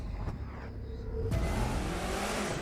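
Race car engine accelerating at the race start in The Crew 2, a rally-style contest between a RWD legend and an AWD Ford Focus, a rising rev that swells and holds loud and close.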